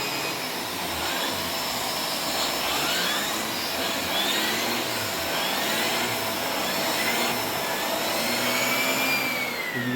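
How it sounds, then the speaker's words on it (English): A Shark vacuum cleaner runs with its powered spinning brush attachment, a loud steady motor whine with shifting tonal sweeps, close and continuous with no talk. "go ahead and turn on the vacuum"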